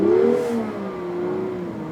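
A car pulling away on a snowy road with stability control switched off, its engine revving up and then holding a steady, smooth drone at high RPM, close and fairly loud.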